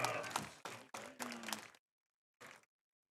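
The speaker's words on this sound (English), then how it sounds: "give one more big round of applause for our Fall 2025 senior student athletes and band members" A crowd at a high school football game applauds senior student athletes and band members, bursts of clapping and cheering mixed with voices that cut off abruptly, followed by one brief final burst.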